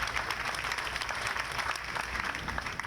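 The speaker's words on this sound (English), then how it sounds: "Let's give him a big round of applause." Audience applause at a Memorial Day ceremony, steady dense clapping throughout, moderately loud and continuous with no speech over it.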